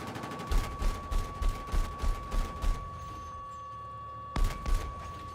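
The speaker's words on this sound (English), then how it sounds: "I'm gonna shoot this guy on the fucking rocks with the tow missile" Battlefield 6 combat with a TOW missile and gunfire: a regular series of thumping shots, a steady tone held underneath, then a sharp blast followed by two more thuds.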